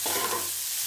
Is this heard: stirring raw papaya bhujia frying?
yes